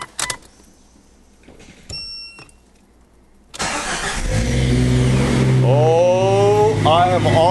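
A Jeep Cherokee XJ with a newly installed muffler starts up after a few quiet clicks and chimes, then its engine roars and revs loudly and close, pitch climbing in repeated swells.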